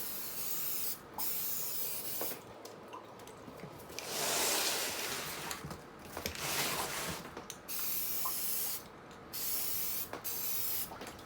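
Aerosol spray paint hissing onto a used Mercedes Sprinter steering wheel in short and longer bursts separated by pauses, close and fairly quiet, with faint rubbing between sprays.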